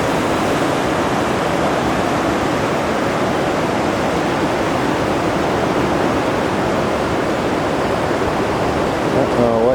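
A river flows beside a hiking trail on Falls Ridge, giving a steady, loud, broadband rushing of water that fills the whole stretch without pause.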